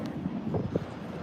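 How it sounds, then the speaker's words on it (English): Wind gusts buffet the microphone on the open deck of the Celebrity Edge cruise ship, a close, rumbling whoosh that swells and eases over a brief moment with no talk. "Ooh, it's windy."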